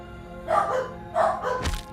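Dogs barking in the background of a home streaming setup, a few separate yips and barks spaced across two seconds, moderately faint.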